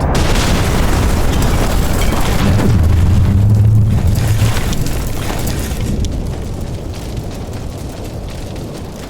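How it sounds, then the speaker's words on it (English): A missile launches and explodes in an audio-drama sound effect, a loud deep booming blast with a long rumbling roar that slowly fades over several seconds. "Now fire our final missile, please."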